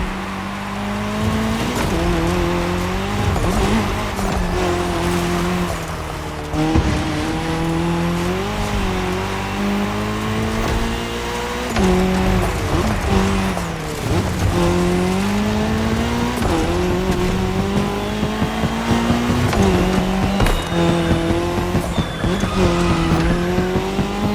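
Race cars in a cross-terrain race in the video game The Crew Motorfest, engines droning and rising and falling in pitch through gear changes, with tire squeals and skids, loud and continuous.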